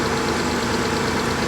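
Car engine with an aggressive exhaust idling nearby, a dense, steady rumbling drone with a slight knock.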